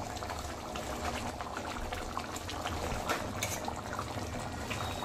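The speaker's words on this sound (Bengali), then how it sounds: "ঝোলটা ভালো করে ফুটিয়ে নিচ্ছি।" Rui fish curry gravy bubbles in a pan, a steady close hiss of boiling with soft popping bubbles and occasional brief clinks.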